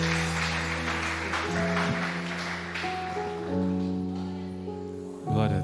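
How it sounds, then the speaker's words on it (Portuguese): A church congregation applauds, a dense wash of clapping heard under sustained keyboard chords, the clapping strongest at first and then thinning out. "Você pode aplaudir o Senhor essa noite"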